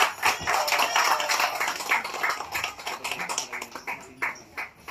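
Audience applause at a Bhojpur Seva Samaj UAE award ceremony: a dense, steady crackle of many hands clapping for about five seconds, thinning slightly toward the end, with no voices.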